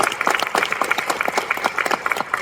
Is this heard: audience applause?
yes